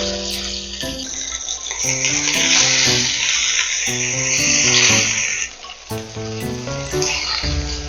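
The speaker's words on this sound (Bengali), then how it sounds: "এই তেলের মধ্যেই এবারে আমি বেগুনটাকে একটু ভেজে নিচ্ছি" Eggplant frying in hot oil with a little salt, a bright continuous sizzle and crackle heard close up beneath prominent background music, easing briefly partway through.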